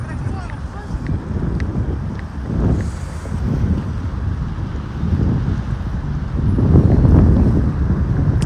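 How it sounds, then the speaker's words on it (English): Gusty wind buffets an outdoor microphone on a city street, a steady low rumble that swells in bursts and grows loudest toward the end, with faint street sounds in the background. "Wow, it's so windy."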